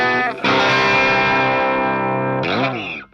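Guitar plugged straight into the high treble channel of a Marshall amp, lightly overdriven: a short note, then a loud ringing chord that sustains before a quick chord change and a fading stop.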